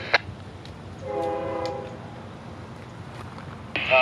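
A CSX freight train horn sounds in one steady, harmonic blast of about a second, moderately loud over a low rumbling background, with brief clanks before and after, in Florida.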